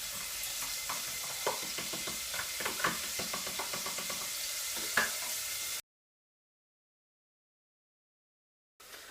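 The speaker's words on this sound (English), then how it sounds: "we are going to get our mushrooms, our onions and our garlic into there to get that frying off" Mushrooms, onions and garlic frying in hot oil for lasagne, a steady close sizzle with scattered clicks and a few stirring knocks, cutting out to silence before the frying sound briefly returns.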